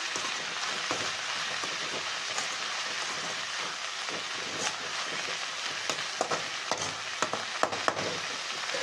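Drumstick leaves palya frying in a pan while being stirred with salt, a dense continuous sizzle like steady rain, with small scraping clicks from stirring growing more frequent near the end.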